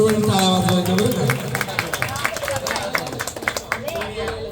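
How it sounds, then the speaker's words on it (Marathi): An audience at a gondhal gathering claps steadily for a performer named Gautam, a dense run of many overlapping claps throughout, with voices and crowd murmur underneath. "सगळ्यांनी गौतम दादांसाठी सर्वांनी टाळ्या वाजवायच्या बरं का."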